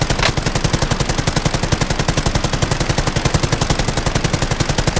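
Sustained automatic gunfire in PUBG hammers out in a fast, even rhythm of loud, close shots, continuing without pause and without talk.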